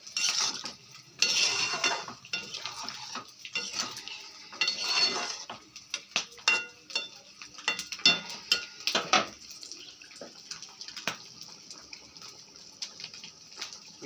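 Ginger-garlic masala stirred and sautéed in a pan, with a utensil scraping and clinking against the metal in irregular bursts over a steady background sizzle, loudest in the first half and fading to sparse taps later.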